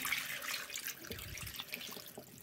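Tap water runs into a large cooking pot being filled to cover pieces of beef lung, a steady, faint hiss of flowing water with no voices.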